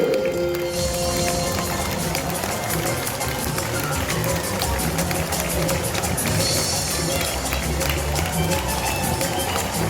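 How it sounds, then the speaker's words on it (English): Bird park show audience breaks into sustained, dense applause for Cocky the bird after a contest, loud and continuous for nearly ten seconds, with crowd noise mixed in. "There we go, round of applause for Cocky now."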